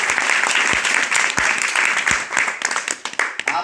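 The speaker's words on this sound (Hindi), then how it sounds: "एक बार दोबारा से ताली चाहूंगा" Loud applause from a crowd gathered for a Vestige marketing introduction, with many hands clapping together in a dense, close burst that turns patchy and uneven near the end.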